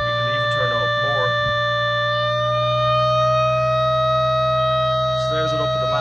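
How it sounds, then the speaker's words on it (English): A civil defense siren driven by a crude homemade VFD speed control, spun up to its maximum speed, wails as a loud, steady, high-pitched tone with strong harmonics throughout, while someone talks briefly at the start and end. "the siren's actually quite a bit louder now as well, just because it's spinning faster and moving more air"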